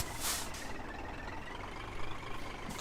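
Scania truck in Scania Truck Driving Simulator creeping in reverse, a steady low engine rumble with a short hiss like an air brake near the start and faint beeping, no talk.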